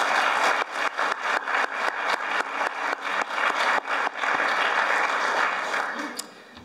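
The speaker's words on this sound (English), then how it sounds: "it would be a nice gesture to give him a round of applause" A crowd at a graduation ceremony breaks into sustained applause, loud and steady for several seconds before tapering off near the end.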